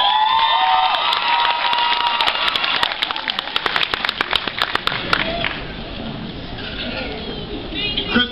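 A graduation audience at a Centura College ceremony breaks into loud applause and cheering, with sharp whistles and shouts over dense clapping that thins out toward the end.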